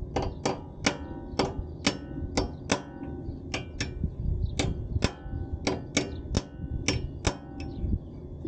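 Sharp metallic hammer blows ring out one after another at an uneven pace, close and loud, knocking out a motorcycle's front sway bar link, with faint workshop clatter between strikes.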